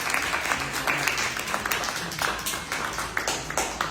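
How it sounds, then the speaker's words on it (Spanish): Church congregation applauding steadily for about four seconds, a dense wash of clapping from many hands with a few sharper claps standing out near the front. "Denle un aplauso al Rey de Reyes."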